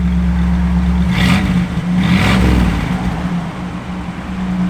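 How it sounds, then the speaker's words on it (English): A 1962 Chevrolet Impala engine idles with a steady low rumble, then revs twice in quick succession, each blip rising and falling before it settles back to idle, close and loud, no talking. "Give it a little rev on."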